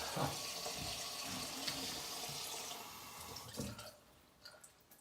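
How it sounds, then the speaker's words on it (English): Wet shaving soap squeezed by hand, giving close, squelchy, watery sounds that run steadily and then thin out into a few soft drips and squishes near the end. "It's wet. It's being squeezed out."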